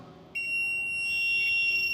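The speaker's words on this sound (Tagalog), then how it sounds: "So I press the enter to generate an alarm." A fire alarm panel sounds after an alarm is generated from a simulated manual call point, a steady electronic beeping tone that starts abruptly and holds loud and continuous to the end.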